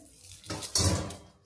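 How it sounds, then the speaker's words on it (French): Dishes being washed at a sink: running tap water with a couple of clattering knocks of pots and cutlery, close and brief. "Elle fait la vaisselle."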